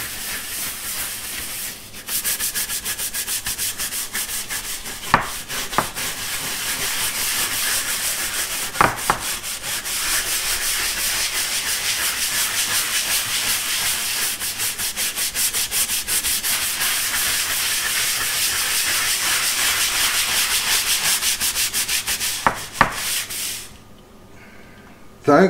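Steady, continuous abrasive scrubbing on a wet concrete countertop with air bubble voids, a close broadband rubbing hiss running almost without pause, broken by a few sharp knocks before it stops near the end.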